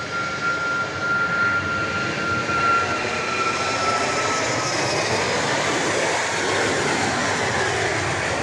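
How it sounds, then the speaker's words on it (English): An airplane takes off at Dallas Love Field with a loud, sustained engine roar that fills the whole stretch, steady and close with a slight shift in pitch. "Plane we just saw taking off is a"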